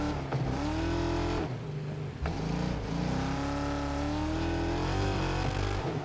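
Race car engines drone and rev in a racing video game, with pitch climbing and dropping through gear changes and a couple of abrupt cuts, loud and continuous with no talking.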